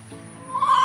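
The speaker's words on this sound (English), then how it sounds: "There's our rooster." A rooster crows once, the call rising in the latter half of the moment over quiet outdoor ambience.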